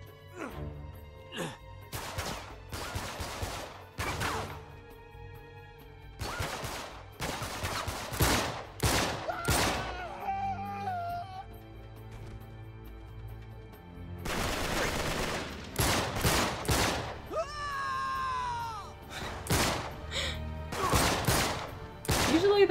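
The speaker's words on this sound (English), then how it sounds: "They're shooting at me?" Gunfire in the video game Uncharted 3: Drake's Deception, with repeated sharp bursts of automatic and single shots, thuds and crashes over game music and sound effects, loud and close throughout.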